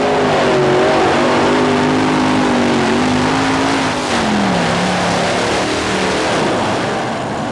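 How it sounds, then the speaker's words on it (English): A modified tractor powered by five Rodec engines roars down the track at a 1991 Anaheim tractor pull, a loud, continuous, close engine howl with wavering pitch throughout. "5 Rodec engines pulling Ohio gold."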